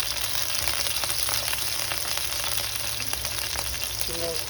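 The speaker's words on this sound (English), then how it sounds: "it's sizzling and popping. It ain't stopping." Chicken frying in a pan, a dense continuous sizzle with scattered sharp pops, loud and close, steady throughout.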